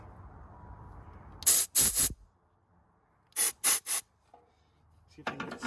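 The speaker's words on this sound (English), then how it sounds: "I'm just sort of carefully trying to work it out, then blow a little air" Compressed air blown in short bursts to clear corrosion from a part on a Craftsman LT2000 lawn tractor: three sharp hissing blasts, a pause, three more, and another starting at the end, loud and close.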